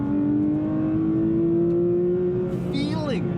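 A Porsche 911 GT3's flat-six engine droning steadily while driving, a sustained close tone that rises slightly, then a sharp throttle blip and falling rev near the end, with a voice speaking over it.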